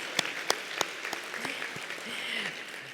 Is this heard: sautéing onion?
no